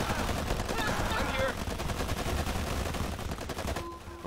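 Turret gunfire in the strategy game Forged Battalion, a dense rapid rattle of shots and impacts lasting a few seconds before cutting off to a short electronic tone.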